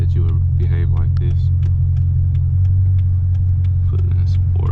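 Steady low engine rumble from a Dodge Challenger R/T while driving to a gas station, a constant droning hum beneath a voice talking throughout.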